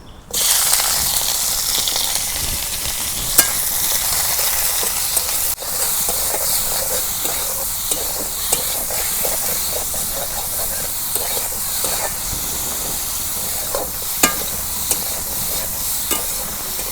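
Fish pieces fry in hot mustard oil in a home kitchen, giving a steady, loud crackling sizzle with frequent sharp pops and spatters, heard close and without any talking.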